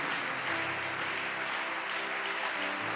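A church congregation applauds in a continuous, even wash of clapping that lasts throughout, with sustained musical tones sounding underneath.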